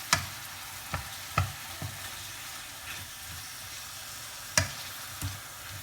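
Chicken, onion and pepper for tantuni fry in a pan under a quiet, steady sizzle, broken by several sharp knocks and scrapes as the mix is stirred.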